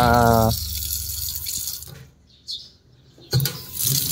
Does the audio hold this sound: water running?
yes